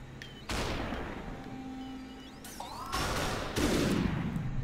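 Gunfire from the time-bending shooter game SUPERHOT: several sharp, loud shots burst out one after another, each followed by a ringing decay, with a quiet hum underneath.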